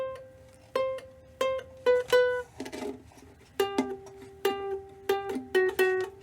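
Ukulele picking out a short, bright theme riff, a run of clear plucked notes in a bouncy rhythm with brief pauses, close and moderately quiet with no voices.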